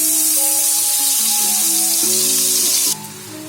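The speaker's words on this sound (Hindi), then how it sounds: "और इसको अच्छे से फ्राई कर लेंगे और साथ साथ चम्मच चलाते रहेंगे ताकि ये जल ना जाए" Ground chana dal fries with cardamom powder in a pan while being stirred with a spoon, giving a loud, steady sizzle with sustained tones in the background that drops in level near the end.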